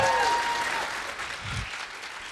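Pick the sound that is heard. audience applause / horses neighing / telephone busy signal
audience applause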